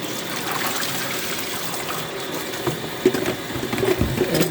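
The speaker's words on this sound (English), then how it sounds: "just rinsing it here and straining it is good enough" Cauliflower rinsed under running water in a strainer, a steady close trickle and splash of water through the mesh that grows a little busier toward the end, with no talking.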